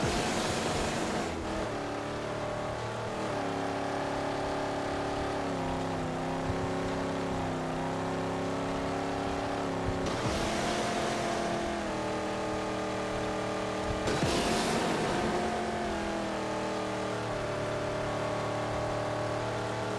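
A car engine driving in the Mad Max video game, a loud sustained drone that rises and falls as it revs, with sharp bursts of acceleration twice along the way and no talking.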